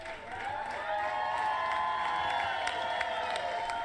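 Crowd applause and cheering on a livestream while the host does makeup and plays Slay the Princess, a steady wash of clapping and whoops held at an even level throughout, with no voices speaking.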